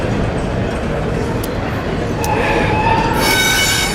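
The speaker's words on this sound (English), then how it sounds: "right by where trains are going slow" A train rolls slowly past close by, a steady loud rumble with metallic wheel squeals and screeches rising near the end.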